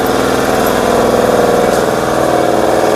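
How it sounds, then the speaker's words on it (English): An air compressor drives a diaphragm pump moving fuel and waste motor oil, a steady loud mechanical drone with a faint regular pulsing and no talk. "This compressor is maintaining about 55 PSI, pumping that pump as slow as it is."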